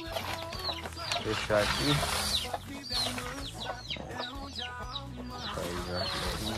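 A small chick clucks and peeps in quick, agitated bursts while being caught by hand, with other chickens nearby and a person talking over it.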